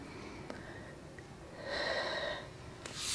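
A long, deep breath during a Pilates mobility and flexibility stretch, lying with the upper body relaxed on the floor: a quiet audible inhale swelling then easing off, close and soft, with no talking.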